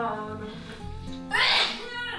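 A single sharp sneeze bursts out near the middle, loud and close, following a stretch of indistinct voice and room sound.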